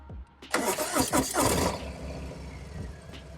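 A 2019 Harley-Davidson Fat Bob motorcycle engine cranks and catches, a close starter whir bursting into a loud rumbling V-twin idle that settles after about a second.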